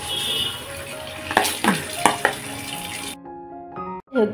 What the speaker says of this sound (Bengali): ব্যাটারটা আমি গরম তেলে ছেড়ে দিয়েছি